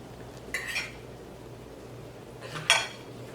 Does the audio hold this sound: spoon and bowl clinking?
yes